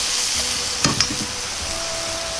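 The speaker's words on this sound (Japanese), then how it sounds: "玉ねぎはこのくらいしんなりするまで炒めます" Onions stir-fry in a pan until softened, a constant sizzle with two quick spatula scrapes in the middle of a short stretch.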